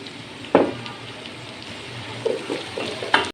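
Chopped capsicum fries in a pot of chicken vegetable rice, a soft steady sizzle broken by a few sharp clatters of a spoon stirring against the pot.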